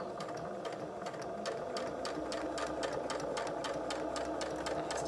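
A sewing machine stitches a fabric face mask, its steady rapid needle chatter running continuously and close up with no talking.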